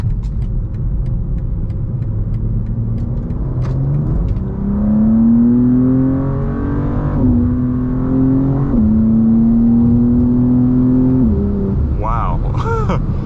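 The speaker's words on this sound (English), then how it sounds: "Wow, that transmission shifts so aggressive" A BMW M2 G87 accelerating hard onto a freeway, its engine droning loud and close as the pitch climbs, drops sharply at quick gear shifts, then climbs again.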